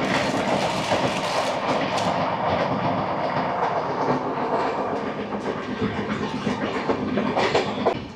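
Howrah–Mumbai Mail 12321 running at speed after leaving Manikpur Junction, a close, steady carriage roar with repeated clickety-clack of wheels over rail joints throughout, and no voices.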